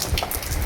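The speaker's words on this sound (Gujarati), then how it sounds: "જો મશીન ઉપર ટીપા પડે છે પાણીના." Raindrops pattering onto a running machine outdoors during rain, a brief steady wash of drip and splash noise close by, no talk.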